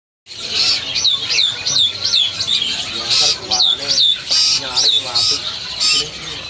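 An Asian pied starling calls at a bird market kiosk, a loud run of repeated whistling chirps and squawks close by, with people talking underneath.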